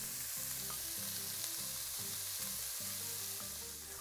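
Diced white onion and jalapeño frying in oil in a pan, a constant bright sizzle and crackle heard close up, with a faint rhythmic droning hum running underneath.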